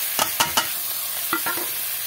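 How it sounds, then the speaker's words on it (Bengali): Fried mung dal is stirred into cooked masala in a pan: a few quick, crisp spatula scrapes in two short bursts over a faint sizzle. "মুগ ডালটা দিয়ে একটু নাড়াচাড়া করে নেব।"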